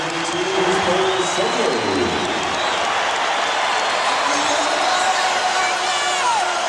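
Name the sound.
basketball arena crowd cheering after Kobe Bryant's 3-pointer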